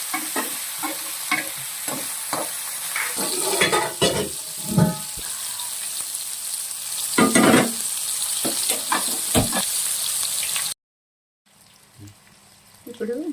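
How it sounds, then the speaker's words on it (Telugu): A spatula repeatedly scrapes and stirs moringa-leaf chicken fry in a sizzling pan, rhythmic clattering strokes over a constant frying hiss, with a voice talking intermittently and a brief silent gap near the end. "ఇలా కలుపుతూనే ఉండాలండి చూసారా కలర్ షేడ్ అయిపోతుంది"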